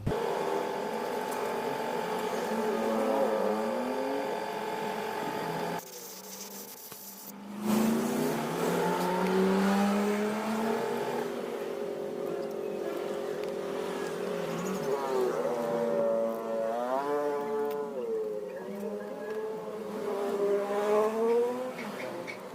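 Engine of a 2023 Kawasaki Barako 2 motorcycle running after carburetor adjustment, idling and repeatedly revving up and down, close and continuous with a brief dip midway.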